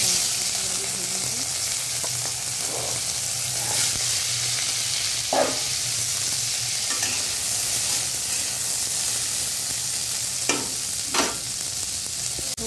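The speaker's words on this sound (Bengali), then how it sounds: "আমি প্রথমে বরবটিগুলো আগে ভেজে নেব।" Long beans frying in oil in a wok, a loud, continuous hiss of sizzling carried throughout, with occasional scrapes and soft knocks of a spatula turning them.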